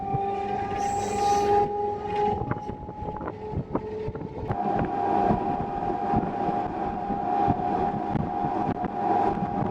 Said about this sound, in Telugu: ఒంటిమిట్ట నుంచి మన ట్రైన్ బయలుదేరింది.